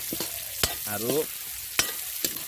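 Meat cooks in a pot, sizzling softly while a utensil stirs and scrapes against the metal in a few quick knocks, with a brief squeaky scrape in the middle, close and without talk.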